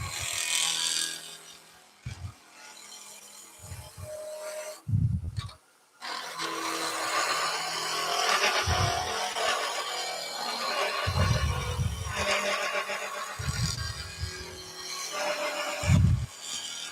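A wood lathe turns a wooden magic wand while a tool takes a taper off one end, giving bursts of scraping and rubbing with a low spinning rumble. The cuts come in uneven spells, broken by short pauses.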